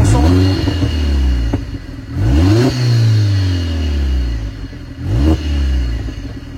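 A hot sports car engine revs repeatedly up close, rising and falling in loud throaty sweeps with a crackle between pulls; no one talks over it.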